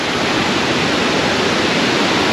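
Charpa waterfall in Kerala rushes as a loud, unbroken roar of falling water, close by and steady, with no other sounds.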